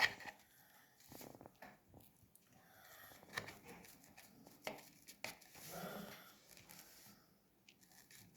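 A kitchen knife slices through two pieces of sandwich bread down the middle, giving soft, irregular cutting and squishing noises that are faint and close, with no talking.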